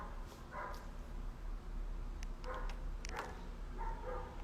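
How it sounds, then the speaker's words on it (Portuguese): A dog barks somewhere off at a distance, several short yips and barks scattered irregularly over a constant low rumble of background noise, with no talking. "deve ter um cachorro latindo"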